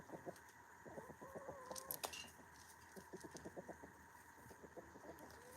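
A rooster, one that has fought off a fox to guard his hens, clucks and calls in a rapid, uneven run of short notes close by, with a brief louder burst partway through.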